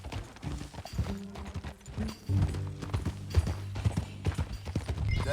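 Horse hooves clip-clop at a walking pace on a ride in Red Dead Redemption 2, an irregular run of close, soft thuds, with faint creaks of tack between steps.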